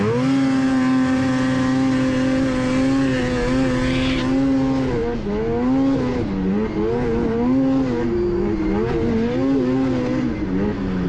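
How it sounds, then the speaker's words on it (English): An Arctic Cat 858 snowmobile engine under racing load, a loud, close, continuous high-pitched whine that dips when the throttle is cut and then climbs quickly back toward peak revs. "I basically came completely off the throttle, and you can see I was able to punch it and get right back up to peak RPM very quickly"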